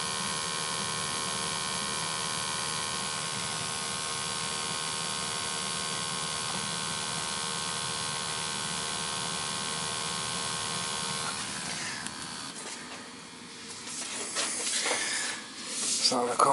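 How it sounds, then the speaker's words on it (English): A replacement gas boiler runs with a steady, loud mains-like hum and hiss that holds constant for about twelve seconds before shifting and fading into unsteady noise near the end. "Give it a little run, let it run for a little bit."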